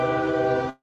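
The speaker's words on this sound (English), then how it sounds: "got a lovely train going by" A train rolls by, a loud sustained tonal rumble with steady horn-like harmonics that holds for most of a second and then cuts off abruptly.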